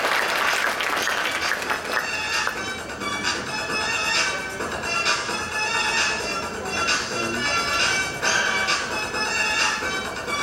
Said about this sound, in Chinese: 请在座的啊来宾掌声给他鼓励鼓励